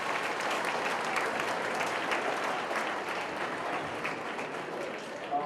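A school audience fills the space with dense, sustained applause, a steady wash of many hands clapping at once at moderate loudness throughout, with no talking over it.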